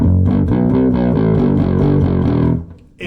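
Electric guitar through a Kramer Duke pickup with heavy distortion and gain, loud sustained chugging chords played in a steady rhythm, then cut off abruptly near the end before a short noisy burst.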